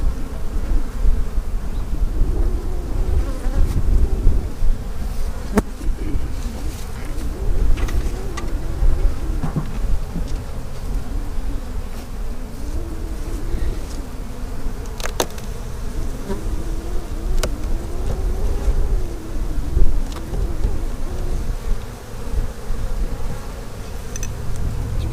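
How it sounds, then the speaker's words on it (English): Honeybees buzz around an opened backyard hive during an inspection, a dense, continuous hum at close range with light wind noise and occasional small knocks, no voices. "Bees working that side."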